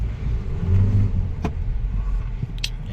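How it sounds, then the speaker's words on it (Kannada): Toyota Innova Hycross MPV accelerating hard from a launch-control start, a steady low engine and road rumble that swells slightly midway, with a couple of brief sharp clicks, no talking. "ಸೊ ಈ ರೋಡಲ್ಲಿ ಒಂದು ಲಾಂಚ್ ಕಂಟ್ರೋಲ್ ಟ್ರೈ ಮಾಡೋಣ"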